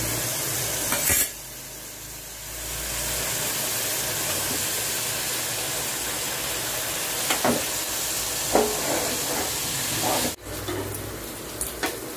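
Paneer and capsicum fry and roast on a hot tawa, giving a steady close sizzle that runs throughout, broken by a few sharp clinks of a utensil against the pan and no talking.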